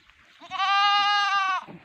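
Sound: bleating Spanish Murciano goat

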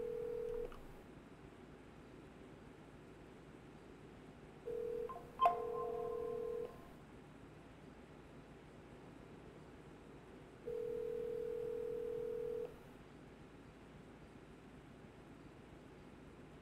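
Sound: phone dialing and ringing in video game GTA V

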